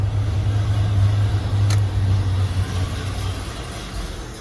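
Engine of a 1978 Ford Bronco idling after start-up, a loud low steady rumble with a strong drone that fades slightly partway through, heard up close.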